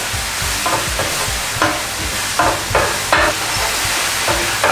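Mushroom martabak filling with mushroom broth stirred in a pan, a loud close sizzle broken by a regular series of scraping strokes from the utensil, no voices.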